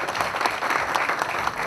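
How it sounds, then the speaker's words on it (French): A fan club audience in Pointe-Noire applauds steadily, a thick continuous patter of many hands clapping at moderate volume with no talk over it. "On applaudit encore s'il vous plaît."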